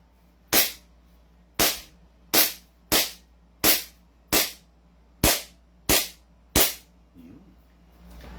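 An SRC Elite airsoft gun fires nine sharp, loud single shots at uneven intervals of roughly one second, with near silence between shots.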